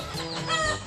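A chicken clucks close by in a short, loud burst of squawking, rising calls, heard on its own without speech.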